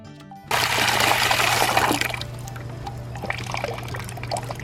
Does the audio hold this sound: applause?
no